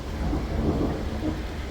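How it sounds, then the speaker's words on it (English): Low rumbling thunder during a severe thunderstorm in West Edmonton, a steady distant roll lasting under two seconds with faint rain texture underneath and no voices. "That thunder is going."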